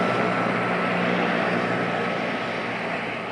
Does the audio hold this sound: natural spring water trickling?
no